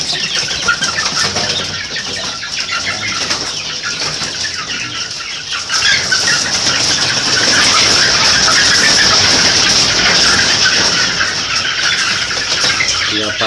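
Frightened Joper chickens ready for sale cluck and squawk in a dense, agitated chorus, with wing flapping rising and growing louder midway as the flock stirs.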